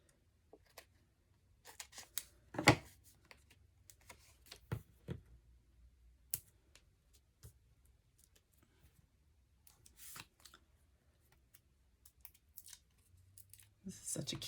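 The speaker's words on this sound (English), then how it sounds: "I need to cut to these because I'm getting to the end." Scissors snip through paper dimensionals for a card in a series of sharp, close, quiet cuts spaced irregularly, with soft rustling between them.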